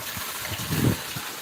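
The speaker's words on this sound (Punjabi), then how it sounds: "ਜਿੱਥੇ ਮੀਂਹ ਪੈ ਰਿਹਾ ਇਸ ਟਾਈਮ ਫੁੱਲ ਪਿਛਲੇ 20-25 ਮਿੰਟਾਂ ਤੋਂ ਸੜਕ ਤੇ ਪਾਣੀ ਪਾਣੀ ਕਰਤਾ" Heavy rain falling on a village road in Barnala district, Punjab, a dense steady wash of water noise with a slight surge near the middle, close and fairly loud.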